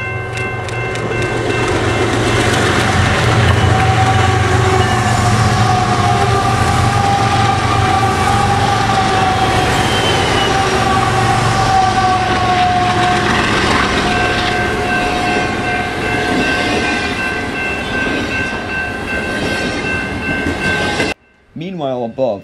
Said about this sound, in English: BNSF 4292 busts adrift as it charges a Z train eastward.